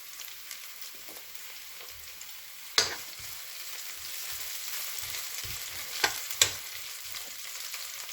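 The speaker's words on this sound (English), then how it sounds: "So I will just let my onions fry out" Onions frying in a pan for a vegetarian run-down, a steady soft sizzle close up with a few sharp utensil clicks against the pan.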